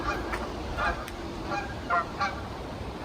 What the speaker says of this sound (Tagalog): Ayan, kunti pa lang mga gis. Pag yan sila ingay na, ayun na.